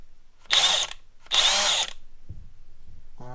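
A DeWalt DCF899B 20V MAX XR brushless cordless impact wrench runs in two short, loud, close bursts of about a third of a second each, separated by a pause, followed by quiet handling sounds.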